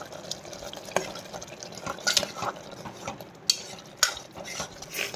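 A spoon stirs ginger paste into a spicy Andhra-style mutton curry, giving soft wet scraping and a few sharper clinks against the pot, with a faint sizzle underneath and no talking.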